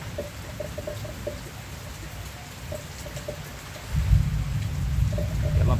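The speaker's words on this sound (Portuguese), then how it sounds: "o trovão está comendo de esmola. Chovendo bastante." Heavy rain pours steadily in the Pernambuco backcountry during a thunderstorm, with a deep rumble of thunder swelling loud and close in the second half and continuing to the end; no one speaks.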